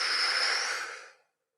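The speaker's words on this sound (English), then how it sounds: "full breath" A single deep, full inhalation taken before a breath hold, a close airy rush that swells briefly, then tapers and fades into silence after about a second.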